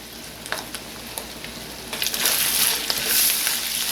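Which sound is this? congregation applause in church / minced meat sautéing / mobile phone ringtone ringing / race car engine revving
minced meat sautéing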